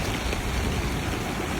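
Steady rain falls on a city street in Shinjuku, Tokyo, a dense continuous hiss of drops spattering on pavement at constant loudness, with no voices.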